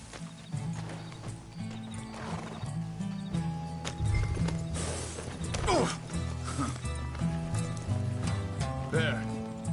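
Horse hooves clip-clop at a steady gallop in Red Dead Redemption 2 on PS4, with a brief whinny, moderately loud under continuous game music and occasional voices.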